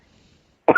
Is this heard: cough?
yes